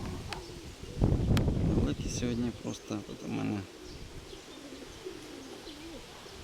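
Pigeons coo outdoors in soft, low, rolling calls, with other birds and buzzing insects in the background, while someone speaks over them.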